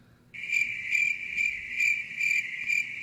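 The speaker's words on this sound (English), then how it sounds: "There's my crickets." Crickets chirp in a steady, pulsing trill that starts abruptly after a brief silent moment and carries on loud and close, with no one talking over it.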